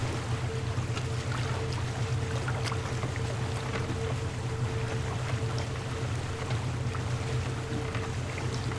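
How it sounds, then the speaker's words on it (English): Continuous low rumble and washing water of a boat moving through water in the video game The Witness, steady and fairly loud with no voices over it. "Oh, listen to that. Listen to all those, that boat in water."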